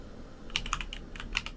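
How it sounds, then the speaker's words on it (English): Quick light keystrokes tap on a computer keyboard, about a dozen clicks in an uneven rhythm, close and fairly soft with no talking, as a program name is typed into a Windows 11 search box. "you can launch the application by just typing the name on the console"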